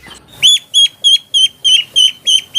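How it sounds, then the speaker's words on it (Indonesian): Cartoonish duck quacks from an animal cleaning video game, eight short bright calls in a brisk even rhythm, loud and clean with no talk. "ini hewan bebek"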